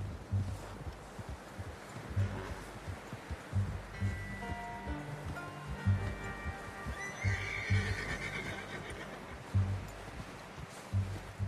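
A horse whinnies in Red Dead Redemption 2, a clear rising neigh near the middle, set over soft hoof clip-clops and rustling outdoor background.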